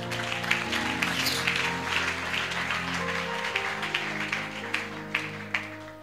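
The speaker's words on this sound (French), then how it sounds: "Acclamons le Seigneur." A church congregation claps in praise of the Lord, with a quick, steady run of handclaps over sustained keyboard music.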